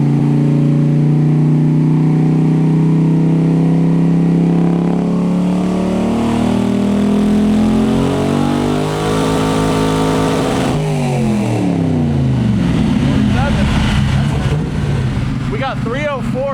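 An LS V8 engine fed by three lawn mower carburetors revs hard on a dyno, a loud, sustained roar whose pitch climbs steadily and then drops back, rising again near the end.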